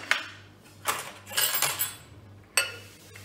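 Butter spread on sandwich bread with a knife: a few short, close scraping strokes, some brief and some drawn out, with faint clinks between them and no talking.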